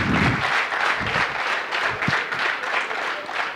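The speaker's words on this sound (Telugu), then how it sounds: "బా ఇప్పటికీ గట్టిగా చప్పట్లు కొట్టారయ్యా." Sustained audience applause at a talk on diet and health at a technology institute, a dense steady wash of many hands clapping at moderate loudness with no talk over it.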